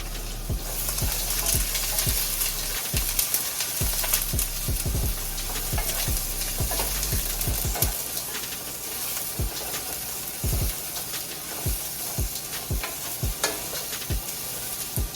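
Mushrooms and onions fry in a pan for a balsamic glazed vegan steak, giving a continuous close sizzle broken by frequent sharp clicks and scrapes of stirring, with no talking.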